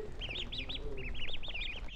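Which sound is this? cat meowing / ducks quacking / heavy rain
ducks quacking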